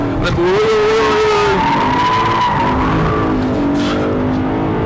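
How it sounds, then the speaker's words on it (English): A race car at full throttle on the Thruxton circuit after a chicane, engine note climbing steadily in pitch, loud and close from onboard, with tyre scrub beneath and a driver commenting over it. "Full throttle again."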